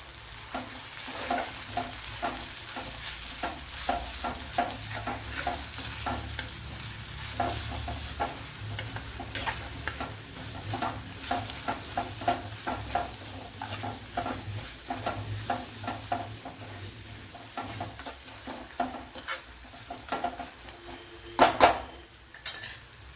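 Turmeric and chili powder frying in a pan for netholi rice, a soft continuous sizzle with frequent scraping and clinking of a utensil stirring against the pan, louder knocks near the end.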